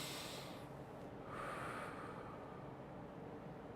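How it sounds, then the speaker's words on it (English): Slow, deep breath drawn in through the nose, heard close as a soft airy inhale and exhale over quiet background noise. "Even if you did it before, breathe."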